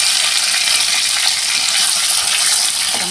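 Fish frying in hot oil in a home kitchen while Bengali gravy is cooked, a dense, steady crackling sizzle that runs loud and unbroken throughout, with a brief utensil scrape near the end and no talking.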